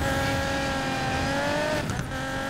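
A widebody Ford GT accelerates in the racing game Need for Speed Payback, its engine a loud, steady, climbing whine heard close, with a brief dip and scrape near the end.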